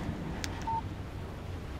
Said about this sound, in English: Text message from Barry. He says hi to you too.